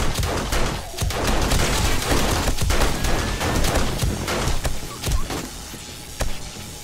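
Rapid automatic turret gunfire in the 7 Days to Die survival game during a horde base defense, sustained loud bursts with sharp cracks and brief pauses, dense and close throughout.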